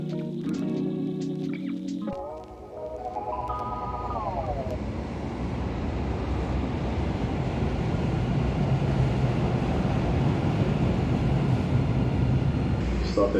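A train rolls past near the city with a broad, steady rumble and rushing noise that builds and holds, preceded by a rising electronic motor whine and chime-like tones as it gets under way.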